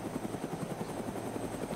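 A video game helicopter gives a loud, continuous rotor chop with a fast, even pulsing beat and steady engine drone all the way through.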